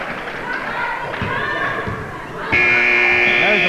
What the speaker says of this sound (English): There's a buzzer.